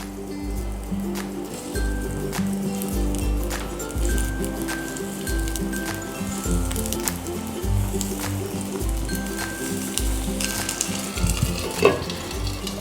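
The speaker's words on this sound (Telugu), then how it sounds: "ఈ బీట్రూట్ పీసెస్ని ఒక్కొక్కటి ఇందులో వేసుకుని ఫ్రై చేసుకోవాలి" Marinated beetroot pieces shallow-frying in oil in a pan, a loud continuous crackling sizzle with occasional stirring and clinks, over a low pulsing hum in the background.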